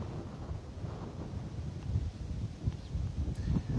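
Strong wind gusting at Bristol Airport, a steady low rumbling roar buffeting the microphone with rising surges toward the end, alone without talk.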